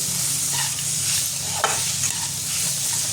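Soybean bhurji with peanuts sizzles steadily in a hot pan while a spatula stirs and scrapes through it, close up, with no voices.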